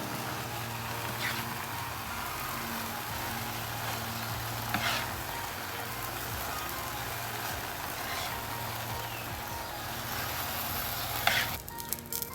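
Cheese and smoked pork rib meat sizzle steadily on a flat-top griddle, a dense continuous crackle with a low steady hum underneath and a few brief scraping accents near the end.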